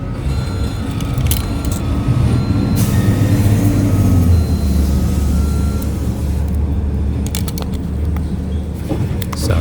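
A garbage truck works outside on trash day with a loud, heavy engine rumble and low drone, brief high clanks and beeps scattered through, the engine pitch dropping partway as it idles on.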